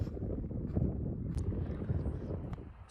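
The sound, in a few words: wind blowing on a clifftop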